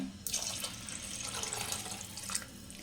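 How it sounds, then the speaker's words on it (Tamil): Water poured or running from a tap into rice for mutton biryani with basmati rice, a steady rushing splash that continues throughout at moderate loudness, with no talking. "இன்னும் கொஞ்சம் தண்ணி சேர்த்துக்கிறேங்க."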